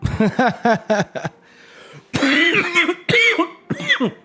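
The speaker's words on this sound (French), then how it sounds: "je tousse beaucoup en ce moment" Several sharp coughs in quick succession, followed by throat clearing and rougher, heavier coughing, close and loud.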